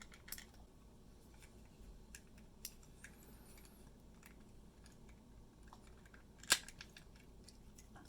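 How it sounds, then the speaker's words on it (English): Plastic spudger prying around the seams of a Logitech MX Vertical mouse shell, giving scattered sharp clicks and small snaps over a quiet background, with one louder crack near the end. "insert a plastic spudger right here and start snapping all the way around"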